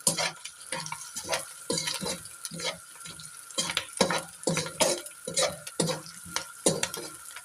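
Chicken Manchurian pieces fry and sizzle in a pan while being stirred, with repeated scraping strokes and clinks of utensil against metal over a steady hiss.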